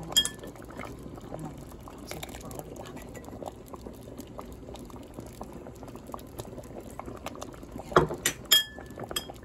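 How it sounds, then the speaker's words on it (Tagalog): Coconut cream, half a can's worth, pours into a simmering pot of sweet corn, barley and tapioca pearl dessert, giving a steady close bubbling, liquid wash throughout, with a few sharp metallic clinks near the end. "yung coconut cream mga kaibigan, nagdagdag pa ako ng kalahating lata."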